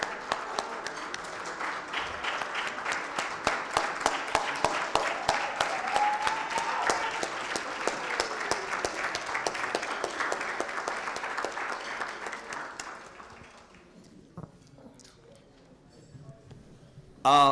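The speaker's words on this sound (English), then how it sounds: "We want to give him a big round of applause." An audience at a philanthropy talk breaks into a sustained round of applause, dense clapping that fills the room for about thirteen seconds before fading to quiet.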